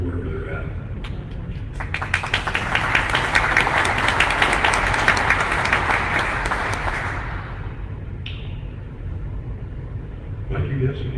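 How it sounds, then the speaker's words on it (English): Audience at a co-op annual meeting applauds former directors, a broad wash of clapping that swells after a couple of seconds, holds steady for several seconds, then fades out, with room rumble underneath. "You can applaud even if you're not here."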